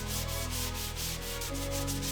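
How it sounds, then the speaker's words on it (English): Bondo body filler being sanded on a car's rear fender, a steady close abrasive rubbing with a rapid back-and-forth rhythm throughout, no voices. "added a lot more Bondo, did a lot more sanding"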